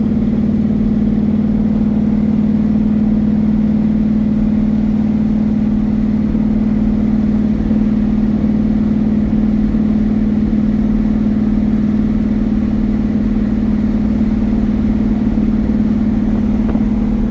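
Corvette engine droning steadily while driving, a loud constant low hum with road noise throughout, no clear revving surge.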